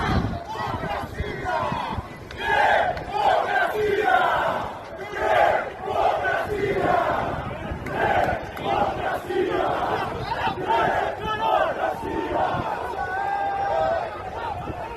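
Corinthians football supporters chant in unison for democracy, a loud rhythmic crowd of many voices rising and falling in repeated phrases throughout.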